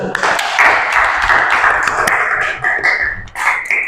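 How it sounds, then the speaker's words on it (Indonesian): A classroom of students claps in applause, a steady mass of overlapping hand claps that carries on for several seconds, with a teacher's voice mixed in at times. "Oke, tepuk tangan selalu"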